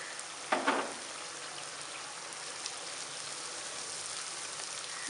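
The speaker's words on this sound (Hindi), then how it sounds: "इसे भूनेंगे तकरीबन 2 से 3 मिनट।" Tomato paste sizzling steadily in hot oil for kofta curry, a continuous close hiss with a couple of brief louder spatters near the start and no talking.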